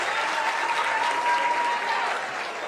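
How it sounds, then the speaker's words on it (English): Sustained applause from an audience at an Africa Day celebration after an energetic performance, a dense steady wash of clapping that holds at even loudness throughout, with a faint tone running beneath. "Let us give them a hand of applause."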